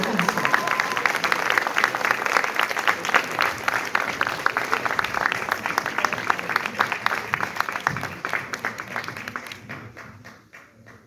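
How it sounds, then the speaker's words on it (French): Dense audience applause at a French-language performance, many hands clapping loudly and steadily with a few faint cheers, holding for about nine seconds before thinning and fading out. "allez-y, applaudissez"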